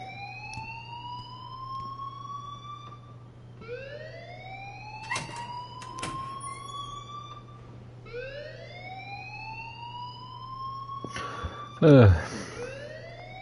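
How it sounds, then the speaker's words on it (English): Rising, repeating siren-like alarm wails inside a school in the video game Life is Strange, sweeping upward in long cycles over a steady low hum, with a brief loud burst near the end and a voice briefly heard. "please turn off that alarm since that's your job"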